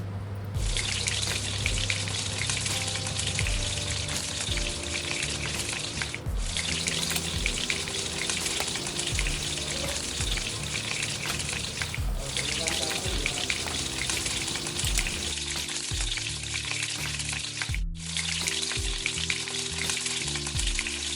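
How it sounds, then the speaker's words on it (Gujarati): Loud, steady bubbling sizzle of balushahi sweets deep frying in hot oil over a medium flame fills the whole stretch, with occasional soft clinks and stirring underneath. "મીડિયમ ફ્લેમ પર ડીપ ફ્રાય કરી દઈશું"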